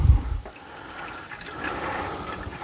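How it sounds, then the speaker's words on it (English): Water soaks through the soil of a tree planted in a pot and drains into a jug beneath, making a steady close trickle and gush after a brief low thump at the start. "And the water will run into the jug."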